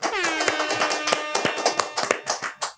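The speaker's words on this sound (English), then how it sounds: "let's have a studio clap for the substitute voice in the corner" A studio audience claps briefly in a TV studio, giving a short burst of sharp, scattered hand claps with a voice briefly heard at the start.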